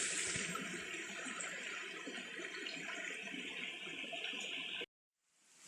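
A steady rushing of a flowing creek on the Appalachian Trail fills the clip, even and fairly loud, then cuts off abruptly near the end.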